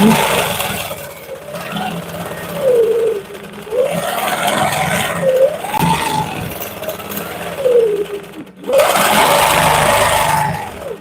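A sewing machine quilting pebbles on a quilt, its motor whirring steadily and rising and falling in pitch as the stitching speed changes in repeated swells, close and fairly loud, with no talking.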